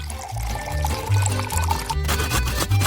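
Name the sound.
pouring whipped cream into a deep pan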